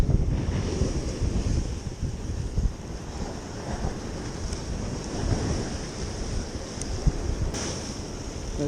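Choppy sea surf and gusting wind on the Blackpool coast, a constant loud wash of breaking waves with wind buffeting the microphone, no voices.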